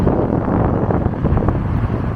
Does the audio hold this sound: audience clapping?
no